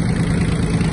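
Kubota B1-17 Japanese mini tractor engine pulling away in first gear, a steady mid-pitched diesel chug with a firm pulsing rhythm, close and loud for a brief moment.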